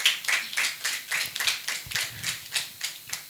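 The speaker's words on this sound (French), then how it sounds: "Sous vos applaudissements, s'il vous plaît." A studio audience at a television magazine show claps in a steady rhythmic beat, each clap distinct and evenly spaced, moderately loud with no voices over it.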